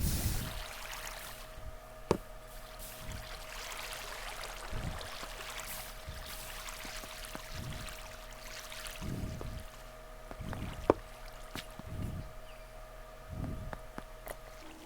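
Water flowing in the Minecraft video game while a player works through an underground cavern: a steady, soft trickling wash with faint repeated low thumps and an occasional sharp click, with no talking.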